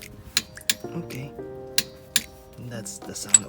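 Sharp clicks from a torque wrench tightening a differential fill plug with new washers to 60 Nm, several distinct metallic ticks spaced apart, heard close up between stretches of speech.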